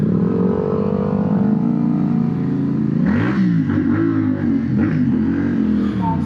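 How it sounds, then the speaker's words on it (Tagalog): Heavy traffic in Santa Rita heard from a motorcycle: a steady engine drone with rising revs partway through, loud and close, no talk. "Grabe talaga traffic dito."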